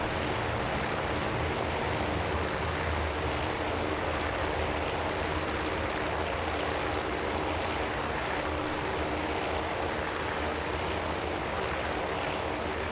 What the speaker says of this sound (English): And the dive bombers are off, doing what dive bombers do best.